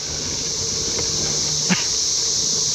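Loud cicadas buzzing in a steady high drone during a bike ride, continuous and dense, with a faint click or two from the bike underneath and no voices.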